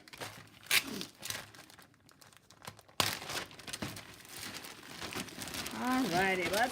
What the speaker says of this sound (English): Let's get the tissue paper out of the way.